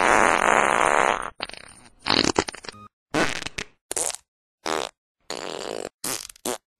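Cartoon fart sounds in a quick series of about eight loud bursts of varying length, each a raspy, sputtering blast separated by short silences.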